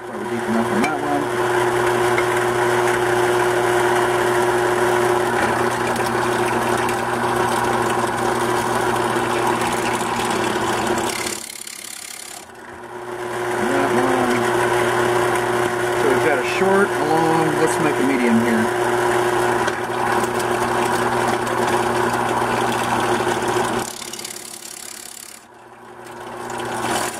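A Forstner bit drills into wood with a steady, loud whirring drone that runs for long stretches, broken by two brief pauses, with a person speaking faintly underneath.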